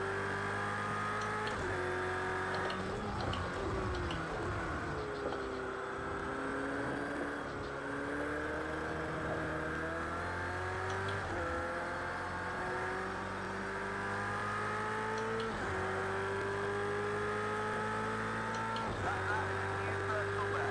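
A Ferrari 488 GT3 racing at Silverstone in Project Cars 2 screams steadily at high revs, its engine note rising through the gears and dropping on each shift, with a commentator talking throughout.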